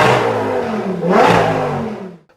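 Lamborghini STO engine revving, a short rising rev that swells around the middle and then drops away quickly, loud and close with no talk.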